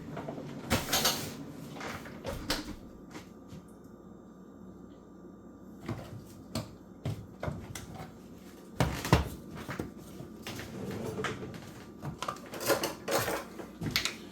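Measuring spoon and bowls clinking while baking powder goes in for lemon drop cookies: scattered sharp metallic and ceramic clinks in irregular clusters, fairly close, with quiet gaps between.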